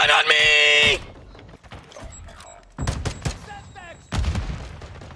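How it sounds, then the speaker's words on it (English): Shotgun blasts and other gunfire in a Warzone 2 firefight arrive as loud bursts, one at the start and two more later, with players talking excitedly between the shots. "He's got a shotgun on me!"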